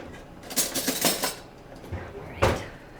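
Metal spoons clink together in a home kitchen during salmon burger preparation, a quick cluster of bright rattling clinks followed by two more separate knocks, close by and without talk.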